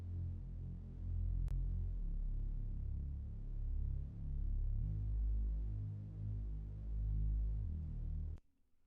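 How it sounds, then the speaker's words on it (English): A thick synth bass built from a saw wave with 16 unison voices and the octave set two down drones low and continuous, swelling and pulsing slightly, with a couple of sharp clicks, then cutting off near the end with no talking. "And this is the bass sound I used, which I've pretty much used on nearly all of my songs."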